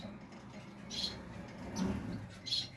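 Gouldian finches chirp in an aviary: a few thin, high calls come and go over quiet background noise, faint and set somewhat apart.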